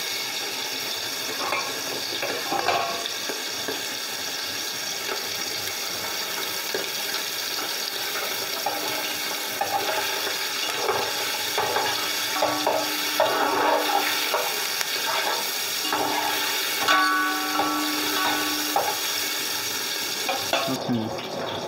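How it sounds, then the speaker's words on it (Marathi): Mutton fat melts and sizzles in a pot for yakhni pulao, a steady crackling fry with occasional stirring scrapes, close and continuous. "ही चरबी चांगली वितळू द्यायची आहे बरं"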